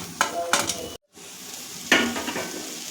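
Chopped chilli, capsicum and carrot are stir-fried with vegetables in an oil-free semolina breakfast dish. A spatula scrapes the pan in a few short bursts over a light sizzle, with a brief silent gap midway.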